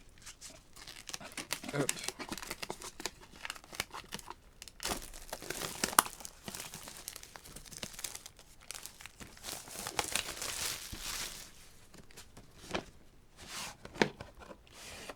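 Plastic shrink wrap being torn and crinkled off a Pokémon Elite Trainer Box (Obsidian Flames), a close series of irregular crackling rustles and tearing bursts, with occasional speech in between.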